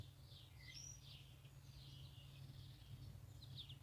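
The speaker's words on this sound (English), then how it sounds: "Do you hear all those birds?" Spring birds singing outdoors, faint scattered chirps and short whistled phrases over a steady low background hum, quiet and distant.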